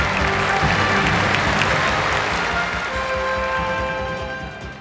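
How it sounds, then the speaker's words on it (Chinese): A large audience claps warmly at a televised variety concert celebrating the Chinese national football team's World Cup qualification: dense, sustained applause that holds steady, then gradually thins and fades toward the end. "让我们再次用热烈的掌声向他们表示祝贺"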